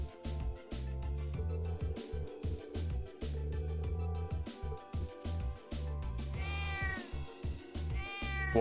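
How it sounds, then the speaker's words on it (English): A small kitten from the video game Trails of Cold Steel II gives a series of short, high meows, several in quick succession, over a steady game music background. "What a tiny kitty."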